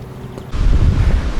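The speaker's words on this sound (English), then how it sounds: "And the sea is very rough and very windy day to day." Strong wind buffets the microphone over the heavy rumble and wash of rough North Sea waves, loud and constant.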